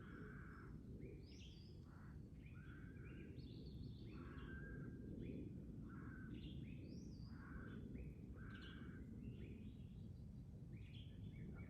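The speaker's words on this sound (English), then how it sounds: "Oh, it's an eagle or a hawk" Repeated high, thin bird calls ring out from a distance over loud, steady low engine or wind rumble on a wooded hillside, with several short cries in a loose series.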